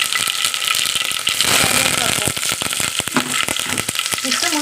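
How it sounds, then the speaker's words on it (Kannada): Mustard seeds and garlic sizzle and crackle in a spoonful or two of hot oil in a pan. Quick, sharp pops break out over a steady hiss, loud and close, with no talk. "ಇಷ್ಟು ಮುಂಚೆನೇ ಒಗ್ಗರಣೆ ಹಾಕ್ಕೊಡ್ತಾ ಇದ್ದೀನಿ ನಾನು."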